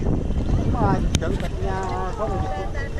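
A Thai long-tail boat with a three-cylinder turbo engine runs nearby, its exhaust droning steadily under wind noise while people talk over it.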